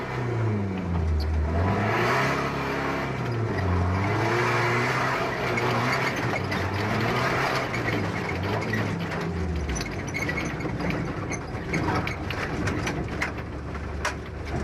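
A Nissan rally truck roars past a stricken Ford Ranger in an off-road race, its engine loud and close with rising and falling revs through gear changes, with no talk over it.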